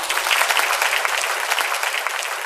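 Loud audience applause for a young singer of cải lương, after her performance on a Vietnamese music show: a bright, dense burst of many hands clapping close together, steady from start to finish.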